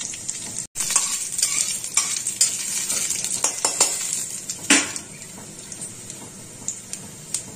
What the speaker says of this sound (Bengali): ফোড়নটা আস্তে আস্তে ভাজা হোক।